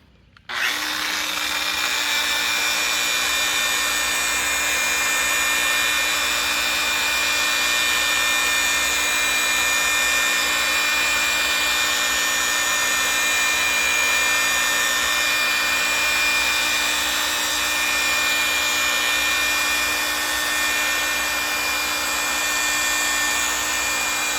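A power polisher works steadily on a metal tank, giving a loud, continuous whine and hiss that starts abruptly and holds even throughout, with no voices.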